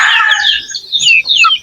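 Young white streamer game fowl chicks, a Kanawayan hatch, peep in loud, close high-pitched chirps, a short burst with brief pauses.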